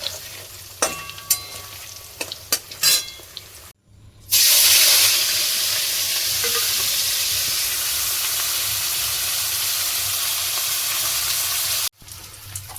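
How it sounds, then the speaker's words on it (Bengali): Paneer and onion frying in a pan, with a few stirring clatters at first, then a loud, steady close sizzle that runs unbroken for several seconds, no speech. "প্রথমে পনিরটাকে ভালো করে ভেজে নিচ্ছি আগে।"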